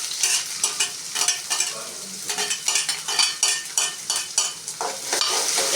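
Onions being stirred and sautéed in a pan, with steady sizzling and a spoon scraping and clinking against the pan in quick, irregular strokes, close up with no talk.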